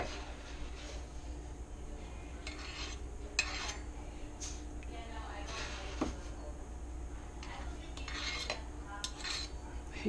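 Metal measuring spoons clatter and clink in a kitchen while sugar is measured for a chocolate stout cake, a string of light, close rattles and taps over a steady background hum.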